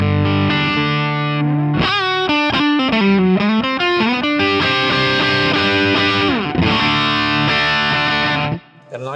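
An electric guitar plays chords and riffs through a Marshall overdrive pedal, clean for the first part and then with the overdrive switched on, the tone thickening with distortion. The playing is loud and continuous, with no talking.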